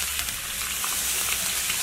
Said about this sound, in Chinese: 锅里倒点油，下入葱姜蒜末